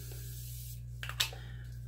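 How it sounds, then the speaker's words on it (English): Makeup setting spray misted from a bottle, a quiet background, then a short burst of airy hiss near the middle of the clip, fairly close and alone without talk. "I'm going to go ahead and spray a little more of the setting powder,"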